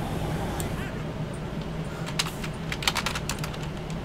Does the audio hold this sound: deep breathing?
no